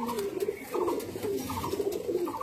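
A male Dobaj pigeon coos up close in a series of soft, throaty, rolling calls repeated several times in quick succession.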